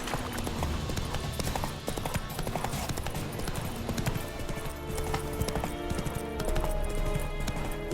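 Roach, a horse in The Witcher 3: Wild Hunt, trots with steady clip-clopping hooves, close and continuous, layered over background game music and ambience.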